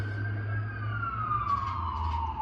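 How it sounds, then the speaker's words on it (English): A single police siren wails with a slowly falling pitch over a steady low city traffic rumble in Newark, New Jersey, moderately close. "you're going to hear the sirens"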